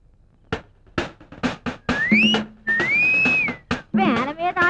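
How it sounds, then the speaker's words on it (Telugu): Short bursts of shrill whistling, rising and sliding pitch glides in a playful tune, come between gaps and are mixed with a few other vocal sounds. "ఈల పాట ఏమిట్రా బాబోయ్? నీ విజిల్స్ నా దగ్గర కాదురా"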